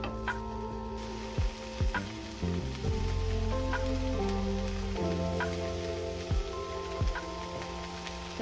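Chickpeas for chole chaat sauté in a pan over a low-to-medium gas flame, giving a soft continuous sizzle with small ticks and spoon scrapes, under a gentle music bed.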